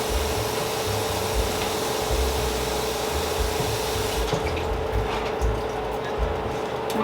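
Water runs into a soup pot to make broth for soup dumplings, a loud, continuous rushing fill with a steady hum underneath; the hiss grows duller partway through.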